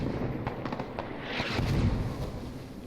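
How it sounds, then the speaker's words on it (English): Mortar shelling in a tactical military video game: a dense run of booming, crackling blasts rolling together at moderate distance, with no talk over it. "We can mortar that tab again. Let's keep shelling the tabs out."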